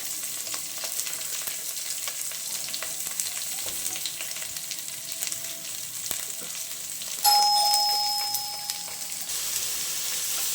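Chopped onions fry in hot oil in a home kitchen pan, a steady close sizzle running throughout with faint stirring clicks, and a brief ringing chime cuts in partway before fading.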